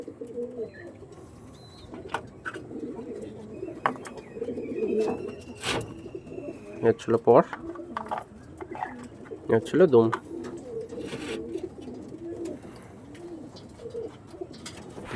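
Andhra tournament pigeons coo in low rolling bursts throughout, close by, with someone talking intermittently over them and occasional sharp handling knocks.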